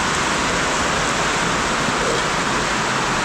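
Heavy rain pours down in a dense, steady hiss, with water splashing and dripping through a leaking roof close by, no breaks in the downpour.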